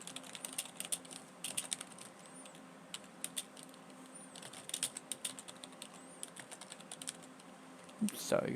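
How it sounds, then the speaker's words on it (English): Rapid keystrokes clatter on a computer keyboard during a Minecraft session, irregular bursts of close, crisp taps with brief pauses, ending in a louder flurry. "Oops, sorry guys, just typing here."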